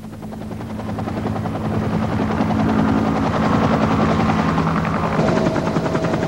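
Helicopter hovering over dense, remote jungle, a loud continuous rotor thrum with a steady engine whine, close and unbroken for the whole stretch with no voices.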